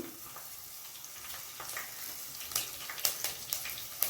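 Green chilies and curry leaves crackling in hot oil for a fish curry, a soft sizzle that grows into sharper pops and spits toward the end, quiet and close with no talk.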